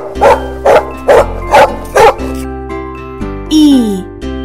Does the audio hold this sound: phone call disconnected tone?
no